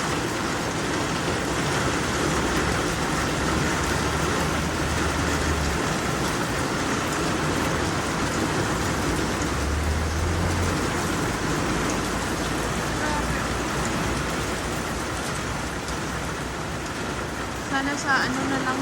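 Steady rain pours down outdoors in Australia, a dense, even hiss of drops on surfaces that continues without pause throughout, loud and close.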